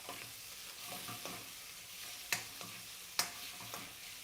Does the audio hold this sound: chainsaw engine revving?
no